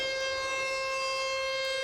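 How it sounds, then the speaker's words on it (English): A tornado warning siren sounds as a steady, sustained wail, loud and alone, with no voices over it. "Everybody's familiar with tornado sirens since they have been around for years"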